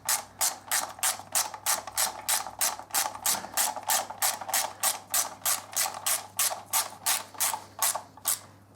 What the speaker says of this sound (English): You might notice I'm holding the ratchet just up at the top.